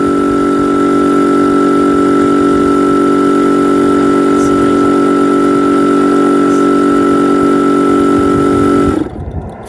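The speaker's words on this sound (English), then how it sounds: "This is a lot quieter compared to the pump that I have right now." A Shark 2S rechargeable electric SUP pump runs with a steady, loud motorized drone and whine that holds evenly for about nine seconds, then cuts off abruptly near the end.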